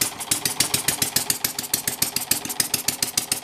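An overhead-cam, air-cooled engine with a cooling fan runs steadily at close range, firing in a fast, even pulsing rhythm with a rattly mechanical edge, loud and unbroken.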